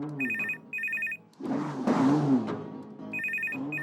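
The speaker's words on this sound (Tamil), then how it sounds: "ஃபோன் ரிங் ஆகுதுல, காது கேக்கலையா?" A landline telephone rings in a home in repeated double bursts of bright, warbling electronic tone, loud and close, while people talk over and between the rings.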